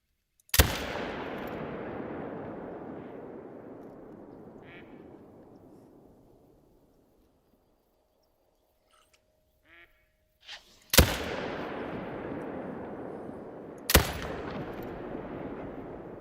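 A hunting rifle fired at a moose in theHunter: Call of the Wild, outdoors at Layton Lake: a sharp crack with a long rolling echo fading over several seconds, followed after a quiet stretch by two more loud shots with trailing reverberation.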